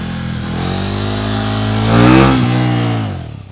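A big-displacement motorcycle engine drones loudly up close, then the throttle is added and the revs swell and ease back as the front wheel comes down from a wheelie.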